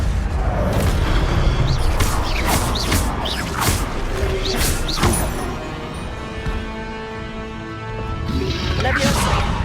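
Spell casting in the Hogwarts Legacy video game, with Levioso among a run of spells: repeated loud whooshing bursts and thudding impacts in quick succession over a dense, busy game soundscape.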